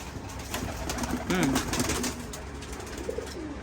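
Pigeons cooing inside a breeding loft, several soft throaty coos rising over a steady room hum, one louder coo in the middle and another fainter one near the end.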